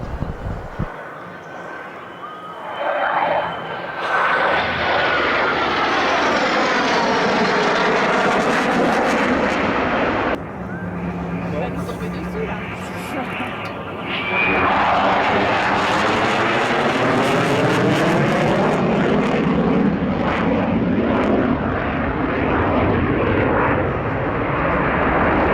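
Military aircraft flying overhead during a training exercise, a loud continuous engine roar that swells and sweeps through passes, with one brief lull midway before a second pass builds again; no voices.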